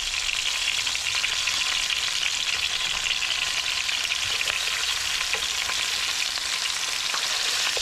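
Pieces of chicken browning in a hot pan for arroz con pollo give off a steady, loud, close sizzle, with faint crackles and spatters running through it and no voices.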